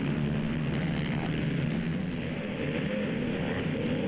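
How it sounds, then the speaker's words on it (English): High-revving 450cc ATV engines scream steadily during a national motocross race, a continuous loud roar with no voices. "Listen to these engines just screaming at the high RPM"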